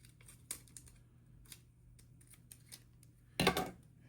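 Scissors cutting a circular paper postcard in half: scattered soft snips and clicks in a quiet room, ending with a louder crisp cut near the end.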